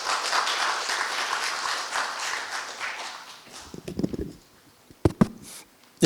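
Applause for a professor introduced at an academic conference fills the first few seconds as a dense, steady wash of clapping, then thins out into a few scattered claps and small bumps before falling quiet.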